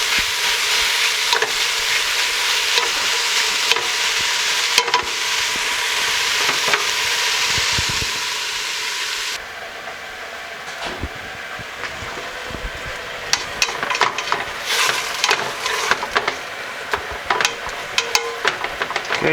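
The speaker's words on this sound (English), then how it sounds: "Occasionally stir it and keep cooking the onions down and getting the turkey browned and cooked down." Chopped onions and ground turkey sizzle and fry in a pot, with a steady loud hiss broken by scraping, clinking strokes of a spoon stirring; no talking.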